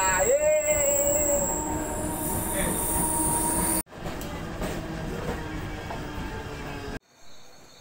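Passenger train on a Mumbai-area line toward Kurla and Khopoli rolls along with a loud, continuous rumble, and a sharp wheel squeal rises early on. The sound cuts briefly twice and faint voices come through.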